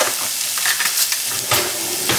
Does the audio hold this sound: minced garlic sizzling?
yes